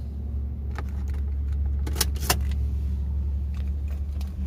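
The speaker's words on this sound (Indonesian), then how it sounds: "Pertama, kunci kita cabut." A car key is pulled from the ignition inside a car, producing a few light metallic clicks and a brief jangle of keys over a steady low cabin hum.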